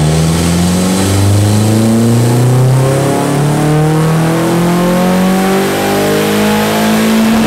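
A turbocharged Nissan KA engine revving hard through a pull on a dyno, its loud, close note climbing steadily in pitch with rising harmonics and a constant roar throughout.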